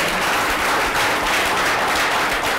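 A room full of people applauds loudly after a talk on studying in the United States, dense, continuous clapping filling the space with no voices above it.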